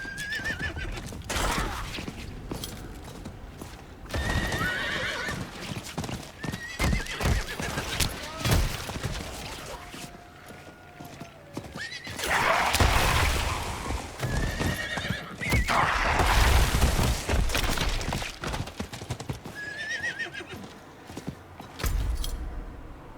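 Horse hooves clip-clop at a walking pace with repeated neighs and whinnies in the Diablo 4 video game, alongside scattered game effects and bursts of combat noise.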